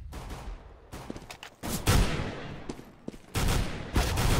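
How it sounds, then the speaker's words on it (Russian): A few sharp gunshots crack in quick succession, loud and close, separated by brief pauses, against a low rumbling background, during a Counter-Strike match on the Nuke map. "Сберстапер уже выстрелом забирает Узи."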